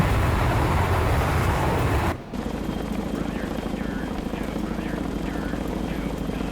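A steady helicopter rotor drone with engine whine in the naval combat game Sea Power; after a brief cut the helicopter continues under a talking voice.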